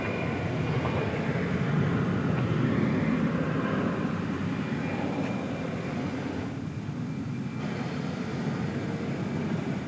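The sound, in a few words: airplane taking off, flight to Monterrey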